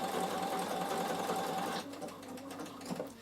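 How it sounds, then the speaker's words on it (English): A Bernina sewing machine stitches two patterns in a fast, steady mechanical whir, then stops and leaves quieter handling sounds. "So I'm just going to sew, and it will stitch 2 patterns and stop."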